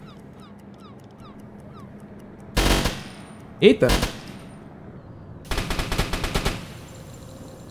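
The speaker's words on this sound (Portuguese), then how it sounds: "deixa eu dar uns tiros com ela pra ver como que é" Machine gun fire in the submarine game UBOAT: two separate bursts of rapid automatic shots with a metallic clank between them, loud and close, while someone speaks briefly.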